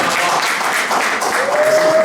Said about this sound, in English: Everybody clap your hands for Betty.